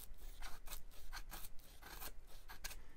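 SOG Aegis FL knife with a full flat grind carving into hard red oak, giving quiet, repeated rasping scrapes in a steady back-and-forth rhythm, close to the listener.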